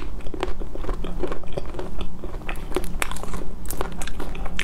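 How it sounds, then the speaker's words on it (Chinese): Brown sugar boba pearls from a sweet iced drink bitten and chewed close to the mic, repeated soft crunches and wet squishy chewing sounds in an irregular rhythm. "今天吃个傲雪新品，黑糖珍珠，尝一下。"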